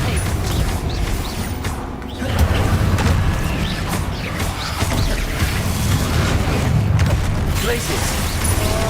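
Repeated Confringo fire spells exploding in Hogwarts Legacy on PS5, a steady dense barrage of booms and crackling bursts over continuous game action, loud and close throughout with a slight dip then surge around the middle.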